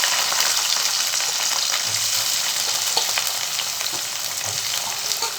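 Small and large onions with curry leaves sautéing in a pan, a constant loud frying sizzle with faint stirring scrapes and crackles, no voices.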